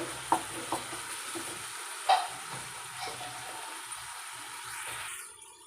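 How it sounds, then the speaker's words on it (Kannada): Tomato and onion frying with salt in a pan, a steady soft sizzle with a few sharp scrapes of stirring near the start and middle, fading slightly at the end. "ಟೊಮೆಟೊ ಈರುಳ್ಳಿ ಈ ರೀತಿ ಫ್ರೈ ಆಗಿದೆ"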